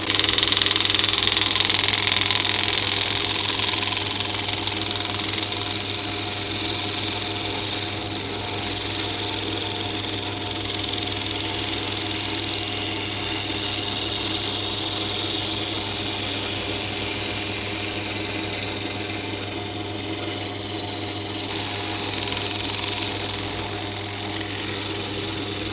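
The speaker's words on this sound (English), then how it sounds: "And I could just sand it around," A power sander works over a wooden storage rack for a Braun Multiquick 9 hand blender, giving a steady, continuous motor drone with an even buzzing tone that holds at one level throughout, close to the microphone, with no talk over it.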